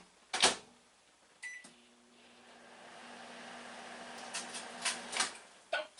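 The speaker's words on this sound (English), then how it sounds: "I'm going to stick it in the microwave for about 10 seconds" A microwave oven heating a bologna cake hums steadily for several seconds, bracketed by clicks and beeps of the door and keypad, fairly quiet and close.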